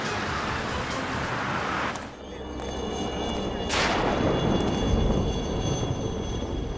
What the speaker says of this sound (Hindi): हेलीकॉप्टर तो आ रहा है